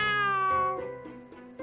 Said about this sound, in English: Was that an actual real meow or just a person saying meow?